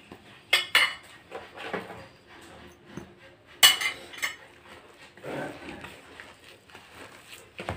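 Bitter cocoa stirred into a mixture in a bowl for Moroccan cocoa ghriba cookies, with clinking and scraping of a utensil against the dish in irregular bursts, close and moderately loud.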